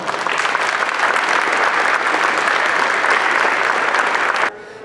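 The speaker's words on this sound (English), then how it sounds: "So let's give them a round of applause" Loud, dense applause from a crowd at a ribbon cutting ceremony, sustained evenly for over four seconds before cutting off abruptly.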